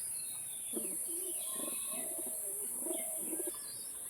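Soft, low coos of Deshi Giribaz high-flying pigeons repeat in a steady rhythm over a constant high hiss, faint and fairly close, with occasional light chirps.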